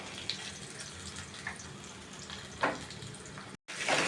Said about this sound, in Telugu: అదే నూనెలో ఏం చేసాము, పచ్చిమిరపకాయలు, పల్లీలు, గుమ్మడి గింజలు, కాజు వేసాం